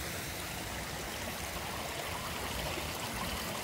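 Water rushes steadily through a culvert where a small dam forces it into the feeder pipe of a waterwheel, a constant broadband gushing with no breaks.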